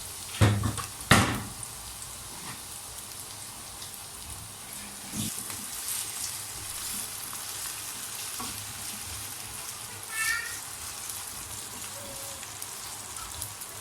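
Vegetables and sliced ingredients sizzle steadily in hot oil for an Italian lentil dish, with a few sharp clatters near the start and occasional light stirring over a faint, continuous frying hiss.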